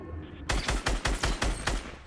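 Rapid automatic gunfire in the Fortnite Battle Royale video game: a steady string of about eight sharp, evenly spaced shots, loud and close, with no talk.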